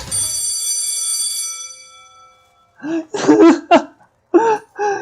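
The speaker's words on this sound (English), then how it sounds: "The glass bell rings, disrupting the moment and snapping everyone back to reality." In a dating video game, a glass bell rings with a bright, shimmering tone that decays over about two seconds, followed by a voice speaking in short bursts.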